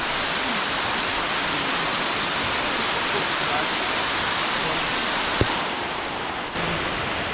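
Heavy rain falls in a loud, constant roaring hiss, a thick wash of sound with a single sharp knock partway through and no clear talking.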